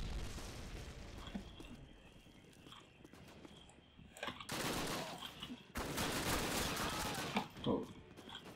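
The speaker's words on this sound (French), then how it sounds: "avec un G42 qui te tire dessus" Call of Duty gameplay with a G42 machine gun: long stretches of dense, loud automatic fire in bursts, after quieter ambient clatter and scattered shots.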